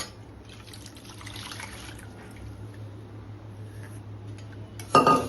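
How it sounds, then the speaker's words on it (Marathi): Half a glass of water is poured into dal with turmeric and salt in a cooking pot, a soft steady pouring trickle over faint kitchen hum, ending in a brief clatter. "अर्धा ग्लास मी इथे पाणी टाकत आहे"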